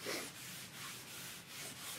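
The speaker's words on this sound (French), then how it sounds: "je vais pouvoir travailler vraiment à main légère pour égrener" Light hand sanding of stained wood produces soft, faint rhythmic rubbing strokes, a few back-and-forth passes of abrasive across the surface with no voices.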